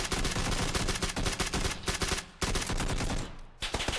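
Rapid gunfire in PUBG on Xbox One X, dense overlapping bursts of automatic shots cracking loud and close, broken by brief pauses before more volleys.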